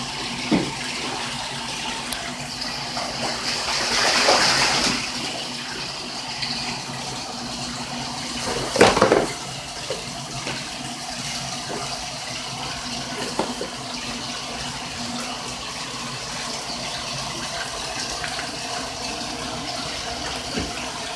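A pet goose splashes in bath water, with intermittent sloshing and a couple of louder splash bursts over a steady watery background; someone talks to it at times.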